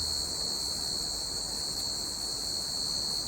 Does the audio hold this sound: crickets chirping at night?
yes